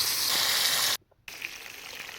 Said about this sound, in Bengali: প্রথমে দিয়ে দিচ্ছি একটু সর্ষের তেল তারপরে দিয়ে দিচ্ছি মাছগুলো